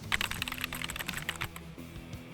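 Quick, clicky keystrokes patter in a dense, uneven run, close and crisp, with no talking.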